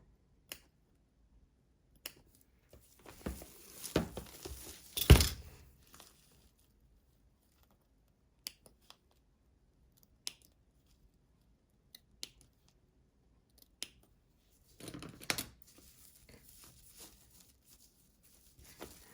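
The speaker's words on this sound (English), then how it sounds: "here we have to snip the curves too, so we can see how it really fits" Scissors snipping into the fabric curves of a doll pant sloper during draping, scattered sharp clicks spread across a quiet room, with a denser cluster of cuts and rustling partway through.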